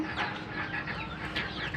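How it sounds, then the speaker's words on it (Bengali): Native chickens on a rooftop clucking in repeated short calls, close and fairly loud against a steady busy background, with no talk. "এই যে মুরগিগুলো"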